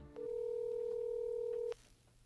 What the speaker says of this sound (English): I decided to do a phone interview with Rich